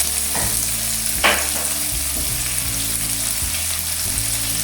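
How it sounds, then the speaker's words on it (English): Onions sizzle and fry steadily in a hot pan as a base for fish with garlic black bean sauce, with a spoon or spatula scraping and stirring through them in several distinct strokes, close and continuous with no talking. "Let's add the onions. You can stir the onions frequently."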